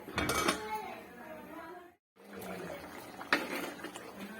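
A lid is set on a pot of simmering drumstick curry in a home kitchen, with a soft metallic clink of the lid against the rim up close and a further clatter, over quiet kitchen background noise.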